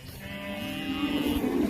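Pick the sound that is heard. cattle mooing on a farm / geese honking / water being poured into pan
cattle mooing on a farm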